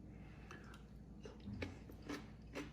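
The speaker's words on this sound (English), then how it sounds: "That's got some crunch to it." A big piece of bamboo shoot from a Haidilao tomato beef self-heating hot pot is bitten and chewed close up, giving several faint crunches spaced irregularly over quiet background noise.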